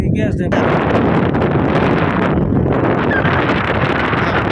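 Steady wind roars across the microphone throughout at an open scenic spot in Assam, a loud continuous rushing broadband noise with gusty buffeting and no pauses.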